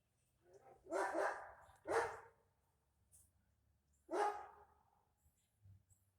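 A dog barks a few times at a distance, faint single and double woofs spaced over several seconds in an otherwise quiet room.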